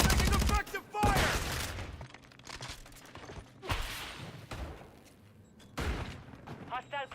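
Rapid bursts of automatic gunfire and explosions in a military shooter video game, loud and continuous in several volleys, with game voice callouts over the shooting.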